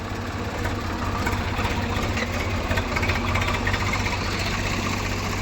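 A Swaraj tractor engine runs steadily nearby in third gear during a tractor tug-of-war contest, a loud, low, throbbing idle that continues without a break.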